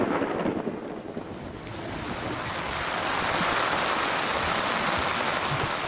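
Monsoon rain in India with thunder: a heavy, continuous roar of rainfall that swells after a rumbling opening and keeps building, loud and close with no voices.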